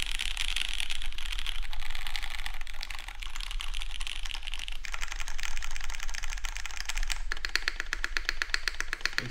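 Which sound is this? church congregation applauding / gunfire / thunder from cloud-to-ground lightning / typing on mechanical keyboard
typing on mechanical keyboard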